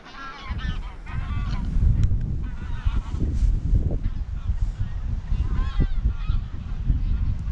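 A flock of geese honking continuously outdoors in wet countryside, many overlapping calls at moderate distance over steady background rumble and wind.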